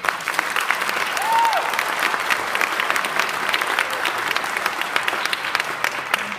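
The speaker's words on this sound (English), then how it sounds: "Please give them a round of applause." A concert band audience claps for guest judges, a steady, dense round of applause from a sizable crowd lasting several seconds at even loudness.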